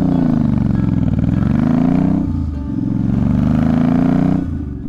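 A Royal Enfield motorcycle engine idles close by at a Royal Enfield meetup in Japan, a loud, steady low thumping rumble that dips briefly and then holds, with no voices over it.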